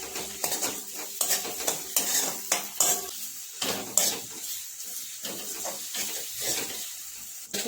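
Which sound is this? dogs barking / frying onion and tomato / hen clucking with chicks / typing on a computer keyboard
frying onion and tomato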